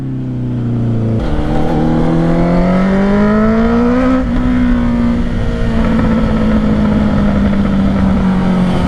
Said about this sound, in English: you can't even compare the sound of the exhaust with and without the DB killer